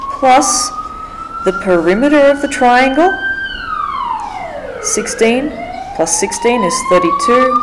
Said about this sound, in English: Sorry about the siren out there.